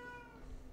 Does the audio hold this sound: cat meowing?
yes